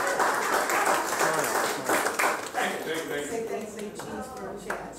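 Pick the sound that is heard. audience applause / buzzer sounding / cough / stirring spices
audience applause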